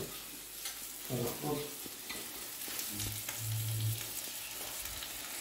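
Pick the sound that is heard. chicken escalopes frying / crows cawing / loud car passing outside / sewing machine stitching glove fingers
chicken escalopes frying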